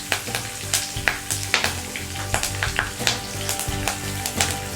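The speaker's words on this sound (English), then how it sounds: "Now in the same oil add cumin seeds and mustard seeds, fresh curry leaves, few fenugreek seeds" Cumin, mustard and fenugreek seeds with fresh curry leaves crackle in hot oil for a brinjal curry, sharp popping bursts over a constant sizzle, close and fairly loud.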